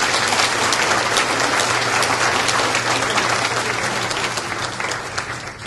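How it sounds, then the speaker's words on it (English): Loud, dense audience applause for a senior honoree receiving a community spirit award at a county recognition ceremony, a steady wash of many hands that thins slightly near the end. "Let's give her a nice round of applause."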